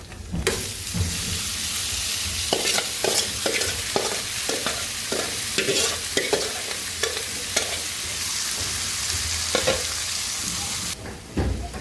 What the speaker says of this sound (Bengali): এখন ভালো করে নেড়ে চিড়ে ভাজা ভাজা করে নামিয়ে নিব